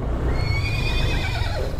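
A horse neighs loudly and close by on a trail to a hot spring resort in Laguna, giving a long shaky whinny over steady low rumbling, with faint hoof clip-clop.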